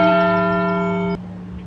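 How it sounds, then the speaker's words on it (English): A single loud church bell toll rings out near Yuengling Park and Gardens and hums steadily before being cut off abruptly. "those are the church bells"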